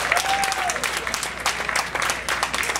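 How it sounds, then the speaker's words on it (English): An audience at a New York fashion show runway breaks into sustained applause, dense clapping heard up close, with brief voices and a whistle over it. "Make some noise and give him a nice round of applause."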